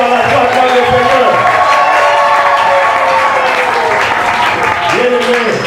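Church congregation applauding and cheering loudly at a Pentecostal-style service, steady dense clapping with crowd voices and shouts filling the room throughout.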